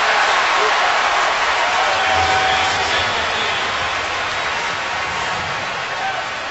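Stadium crowd at a Ravens vs Bears football game in 2013, a loud, steady broadband roar holding for several seconds and easing slightly toward the end, with no clear voices over it.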